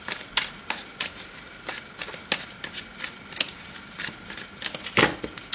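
A deck of tarot cards is shuffled by hand in a series of quick riffling bursts, close and crisp, with short pauses between them and no talking.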